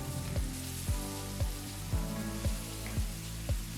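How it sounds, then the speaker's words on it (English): Chopped onions sautéing in hot oil with mustard and cumin seeds for a brinjal masala curry, a steady sizzle broken by regular stirring clanks roughly every half second. "Sauté the onions for about 2 to 3 minutes until they turn golden brown."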